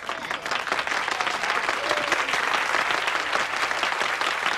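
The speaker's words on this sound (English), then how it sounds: "Please continue your applause for all the students who have contributed to our wonderful display of" Sustained audience applause for students at a school pride event, dense and lively clapping filling the whole few seconds at steady volume.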